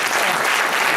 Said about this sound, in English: can we give a very big applause, please?